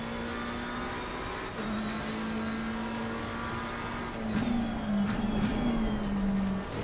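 Race car engine in Assetto Corsa Competizione, a racing game on Xbox Series X, droning steadily, then dropping and climbing through gear changes as it revs harder near the end.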